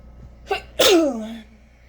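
A single loud sneeze close up, a short sharp intake followed by an explosive burst that trails off.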